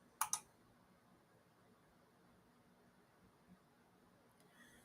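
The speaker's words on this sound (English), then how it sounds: "you click on the title to learn more" Two quick close mouse clicks at the start, then a quiet hum of room noise as a title is selected in a library catalog.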